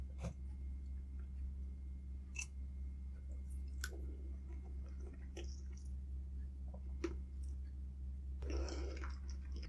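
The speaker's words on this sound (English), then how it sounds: "I'm gonna eat the egg." Soft close-up chewing of an egg at a quiet eating session, scattered wet clicks and squishy bites over a steady low hum, with a brief louder crunch near the end.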